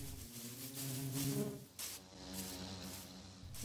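An army of bees spawned in a video game, buzzing as a steady, dense drone with layered tones throughout, continuous and fairly close, with no talking.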